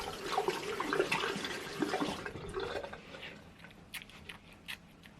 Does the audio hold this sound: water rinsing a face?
yes